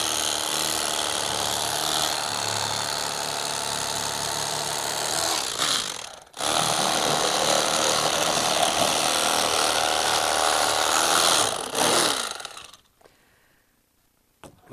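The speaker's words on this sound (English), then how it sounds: "The only drawback to using an electric knife is that it overheats when you're using a lot of fish." An electric knife filleting fish: a loud, continuous buzzing motor drone with a brief cutout midway, then running again before stopping into near silence at the end, with no talking.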